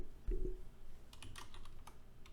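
Fingers type on a computer keyboard while files are being written and saved. The keystrokes come as quick, faint clicks in short runs over a low background hum.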